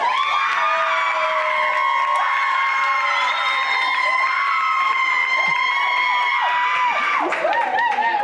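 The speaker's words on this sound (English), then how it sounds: "clap if you want the first one." A comedy club audience at the Laugh Factory erupts in loud, sustained cheering, whooping and high-pitched shrieks, with scattered clapping underneath, the roar holding steady for several seconds.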